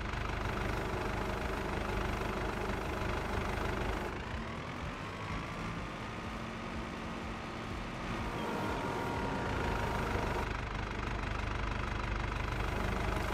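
Fendt tractor engine in Farming Simulator 22, a steady low mechanical drone that dips and then climbs in pitch as it revs up, close and alone without talk.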